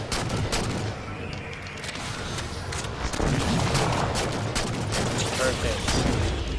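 Gunfire in the Halo 4 campaign mission Infinity, clearing the landing zone: dense bursts of shots and explosions rattle continuously, loud and close, with game noise filling the whole stretch.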